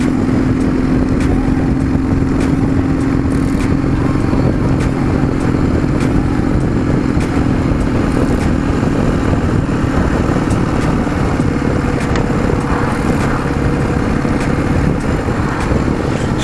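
A motorcycle rides through the Ural mountains, its engine droning steadily and loudly with wind buffeting underneath for the whole stretch.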